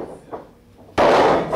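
A wrestler is body slammed onto the ring mat during an independent wrestling match, a sudden loud crash landing about a second in after quieter commentary-like murmur, ringing and sustained crowd or ring noise following.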